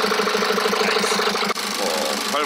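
A BMW 520d F10 diesel engine runs at idle with a steady rhythmic knock and hum, loud and close, briefly interrupted by a short dip, with faint talking over it.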